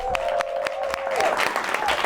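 Studio audience applause on a community television talk show, a short burst of clapping and crowd noise with a voice over it.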